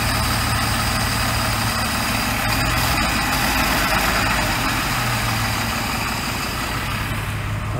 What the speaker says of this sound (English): The book says between 500 and 700 RPM for idle